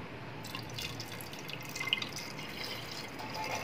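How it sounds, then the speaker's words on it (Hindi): Water trickles and drips steadily into a pot of mutton masala curry as it is added to the cooked spices, a soft, continuous liquid patter with no voices. "इसमें थोड़ा सा पानी और डालेंगे हम"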